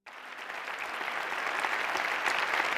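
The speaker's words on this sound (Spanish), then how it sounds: "Damos el aplauso, por favor, muchísimas gracias." An audience bursts into applause, a dense, steady wash of clapping that starts abruptly and swells slightly louder as it continues, with no voices on top.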